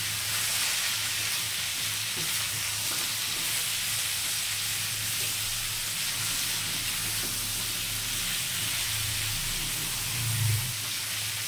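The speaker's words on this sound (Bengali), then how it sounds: "দিয়ে ভালো করে এটাকে নাড়াচাড়া করছি।" Vegetables for Bengali shukto, seasoned with salt and a little turmeric, fry and sizzle steadily in a pan while being stirred, with a soft continuous crackle throughout and no talking.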